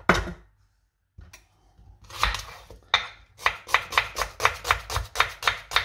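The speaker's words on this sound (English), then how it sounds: "The onions, just roughly chopped, diced." A knife chops onions on a board, first in a few scattered cuts, then in a quick, even run of crisp, close thuds.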